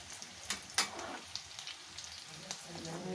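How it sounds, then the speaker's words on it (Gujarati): Aloo samosa rolls frying in oil over low-to-medium heat, a soft steady sizzle with a few sharper pops and crackles near the start, close and fairly quiet. "આ રીતે થોડા તળાવવા દઈશું"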